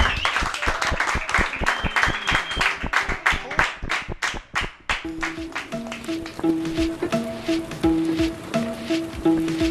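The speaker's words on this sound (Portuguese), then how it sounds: "Eu vou pedir palmas pra Jesus aqui, pra todos nós aqui." Audience clapping at a live music show, starting as a run of distinct close claps that blend into scattered applause, with tones of music or voice coming in under it midway.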